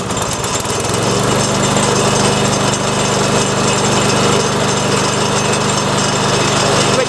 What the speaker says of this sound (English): we simply pull start the unit. Once it starts, we gradually turn the choke off,